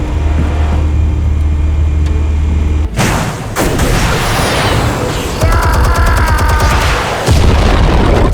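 Explosives detonate in the Batman Telltale Series game: a sudden loud blast breaks a low rumble, followed by heavy crashing debris and rolling booms, with a high whistling whine and a second burst near the end.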